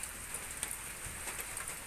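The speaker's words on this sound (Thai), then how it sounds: "ฝนตก ฝนตก" Steady rain falls outdoors in a Thai village, a soft even patter of drops striking surfaces, faint and continuous with no voices.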